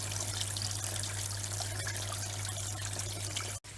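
Water and dirty concentrate material run steadily through a Miller sluice table, a continuous broadband trickling and pouring wash that stays close and even before cutting off abruptly near the end.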